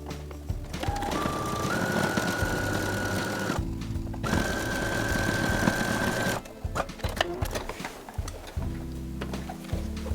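A sewing machine running a double-needle topstitch on a denim jacket with a size 16 needle and gold top thread, stitching in steady mechanical bursts with brief pauses between runs, close and clear.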